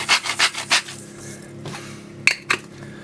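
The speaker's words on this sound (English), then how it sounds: "Let's just get a quick grind of salt" A hand salt grinder is twisted over a prawn and asparagus pizza, giving a few short gritty rasping bursts at first, then a pause and two brief sharp clicks, close and alone.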